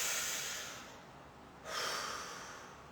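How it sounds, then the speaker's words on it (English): A slow breath drawn in through the mouth during a relaxation session, a soft airy hiss that swells, briefly fades, then returns as a second quiet, close inhalation. "So let's breathe in the mouth."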